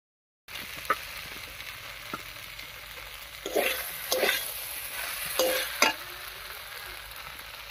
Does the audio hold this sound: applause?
no